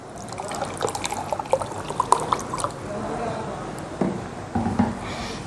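Cold Kangen water poured from a container, a light irregular trickle and splash with a few clinks and taps, moderately close in a quiet indoor room.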